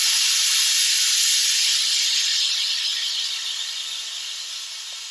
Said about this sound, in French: on n'est plus qu'à 10 secondes et vous allez voir l'évacuation de la vapeur